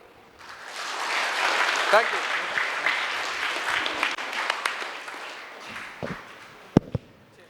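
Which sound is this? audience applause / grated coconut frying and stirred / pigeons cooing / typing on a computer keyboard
audience applause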